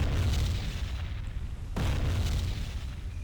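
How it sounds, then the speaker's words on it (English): Distant explosions in Silent Hunter 3, a World War II submarine game: a steady low rumbling boom with a sharper burst partway through, heavy and muffled rather than close. "You can't see the explosion. That means they are pretty far away."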